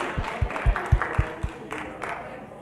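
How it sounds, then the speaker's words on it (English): Scattered applause from a small group at a new teacher training session, a handful of loud claps in the first second and a half, then fading into softer, sparse clapping with a murmur of voices. "Let's give Melanie and Renee a big round of applause for all their hard work for preparing."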